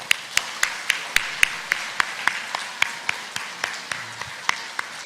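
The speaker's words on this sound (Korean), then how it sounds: "여러분 박수 한번 해주시기를 바랍니다" Sparse, slow clapping from a church congregation at a New Year's Eve worship service, with individual claps at a steady rhythm rather than a full roar, fairly distant and moderately quiet.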